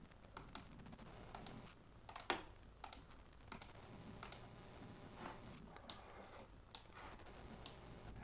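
Scattered key presses click irregularly over a faint background hum, single taps and short bursts spread across the clip, fairly quiet.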